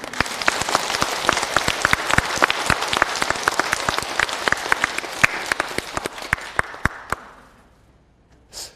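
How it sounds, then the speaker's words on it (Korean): Audience applause at a Korean church revival sermon, dense clapping sustained for about seven seconds before stopping abruptly. "박수."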